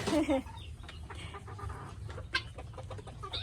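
Guinea fowl on a farm giving a loud opening call, then scattered short clucks nearby over a low background hum.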